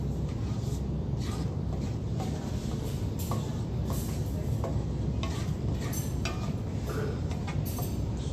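Masala fries in a pan over medium heat for a paneer curry, giving a continuous close sizzle with scattered light clinks and stirring scrapes throughout.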